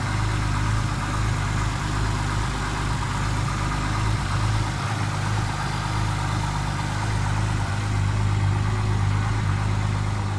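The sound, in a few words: car engine idling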